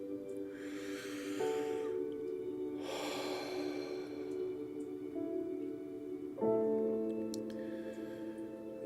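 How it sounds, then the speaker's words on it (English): Deep breathing during a guided relaxation session, two long airy breaths followed by a quieter one, close and slow, over a soft sustained musical drone. "Keep breathing. Breathe how you wish."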